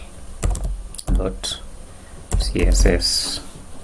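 Fingers typing a short filename on a computer keyboard in clustered bursts of key clicks, close and moderately loud, with a brief pause between bursts during a web design tutorial.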